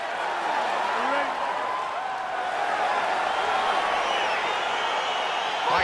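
A UFC 4 video game arena crowd sends up a steady roar of cheering at the start of a fight, a broad sustained wash of noise with faint whistles and shouts, even and loud throughout.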